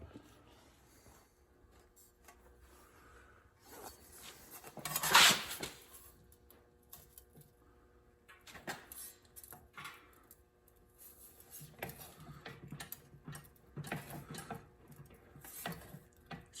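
Sheet metal is trimmed for a strut mount repair on a 1998 Audi, with irregular snipping, clicking and scraping sounds close by and a louder metallic rasp partway through.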